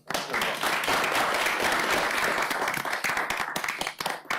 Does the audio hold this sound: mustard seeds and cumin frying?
no